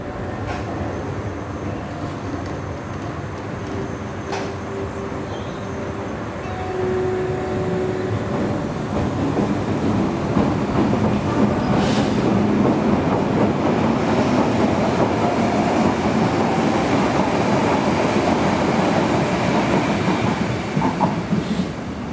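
A Berlin U-Bahn line U2 subway train rumbles along the track, starting quieter and building into a loud, steady roar with rhythmic wheel clatter and occasional faint squeals.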